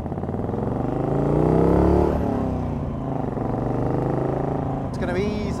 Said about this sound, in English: It's my turn to spin a few laps in the Morgan